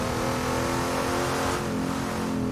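Race cars drive at Bathurst circuit, their engines roaring and revving steadily at close range with no break.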